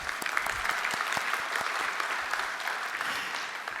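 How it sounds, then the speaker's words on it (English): Steady applause from a conference audience at an energy summit as elected officials are introduced, a dense wash of clapping that holds at an even level throughout with no speech on top. "Yes, of course, applause."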